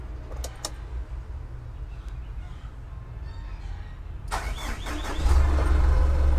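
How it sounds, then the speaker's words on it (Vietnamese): A 2019 Hino Dutro 5-ton dump truck's common-rail Euro 4 diesel engine cranks and catches near the end, settling into a loud, deep rumble after a few seconds of quieter background noise. "bây giờ mình sẽ nổ máy cho các bạn xem."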